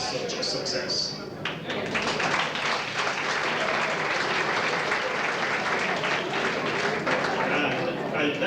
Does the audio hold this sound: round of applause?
yes